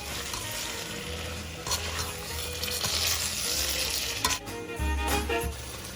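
Prawns with soy sauce stir-fried in a hot pan: a loud, continuous sizzle broken by scraping and clattering as a utensil stirs and tosses the food, with a sharper knock near the end and no voices.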